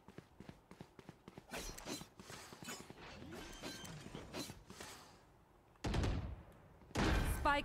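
The spike is planted in the video game Valorant: a run of quick mechanical clicks and ratcheting beeps builds over several seconds, then two loud bursts of noise close the sequence, close and clear with no talk.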